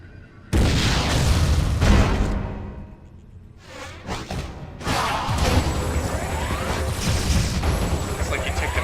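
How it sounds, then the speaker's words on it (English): Loud booming missile blasts and crashing impacts from the Metroid: Other M video game, with whooshing bursts and a brief lull before heavy rumbling resumes; a voice talks over parts of the noise. "Why not say hello with a missile?"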